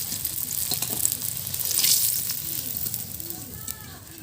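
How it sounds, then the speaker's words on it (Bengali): Eggs fry in hot oil in a pan, a steady close sizzle with soft crackles, swelling briefly midway and easing toward the end. "ডিমগুলো কিন্তু কড়া করে ভাজা হয়ে গেছে"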